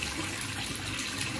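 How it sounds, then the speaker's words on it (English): Tap water running steadily during hand washing, a continuous broadband splashing rush at close range, alone with no voices. "Wash hands before you eat and after you finish using the toilet."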